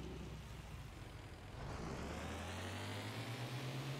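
Vehicle engine in a video game, sounding like a truck, a faint steady low engine hum that rises into a sustained higher drone partway through, with no talking.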